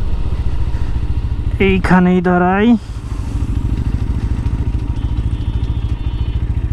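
A GPX Demon 165RR motorcycle engine idles close by with a steady low mechanical throb that runs through the whole stretch, while someone speaks briefly over it near the start.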